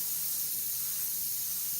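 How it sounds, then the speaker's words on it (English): Steady close hiss of an Iwata airbrush spraying paint onto Claybord for a red Corvette Stingray, one continuous unbroken stream of air with no talking. "the more I spray it right there, darker"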